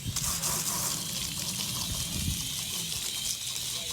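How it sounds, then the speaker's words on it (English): Water sprays steadily onto a tire and rim during a wash-down, a continuous close hiss and gush with no break across the whole stretch. "what we're gonna do is wet down the tire and rim"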